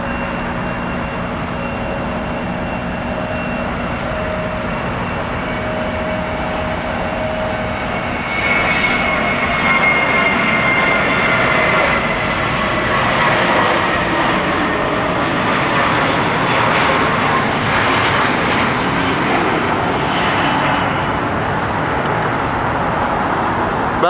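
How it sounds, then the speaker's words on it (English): An Airbus A320 takes off at LAX. A distant jet engine roar swells from a steady whine into a broad, louder rush that holds for the rest of the clip, with faint traffic noise beneath. "Got the A320 out here. Enjoy the takeoff."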